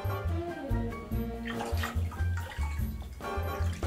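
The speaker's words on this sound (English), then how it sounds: "I'm gonna put it underneath water." Running water streams from a tap over a sunscreen sample held beneath it, a close, steady splashing and gurgling flow with fluctuating low rumble.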